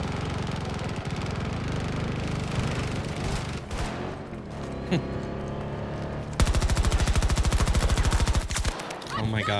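Automatic gunfire in the shooter game Battlefield 2042, loud and continuous with a denser rapid burst near the end, set against game noise and engine-like rumble.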